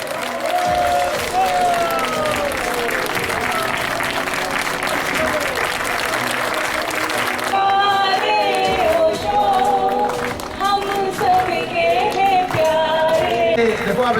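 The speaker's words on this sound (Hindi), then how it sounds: "सबके लिए तालियां बजनी चाहिए।" Sustained audience applause at an Osho festival and meditation camp opening, a dense wash of many hands clapping with cheering, continuing steadily throughout, loud and close with a brief dip partway.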